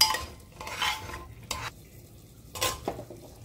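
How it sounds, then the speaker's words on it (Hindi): Soaked chana dal being stirred in a pan while it cooks, with a few scraping, rustling stir strokes and a light sizzle in a quiet kitchen, no talking. "अब इसे 1 मिनट के लिए इसे पकाएंगे।"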